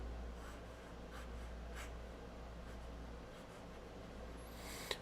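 Extra fine fountain pen nib scratching over paper in quick, fast strokes, a soft continuous close-up scrape with a short sharp tick near the end.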